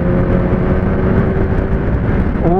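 A Kawasaki ZX-10R's inline-four engine drones loud and close at steady revs with the new throttle setup, then jumps sharply in pitch as the throttle is snapped open near the end.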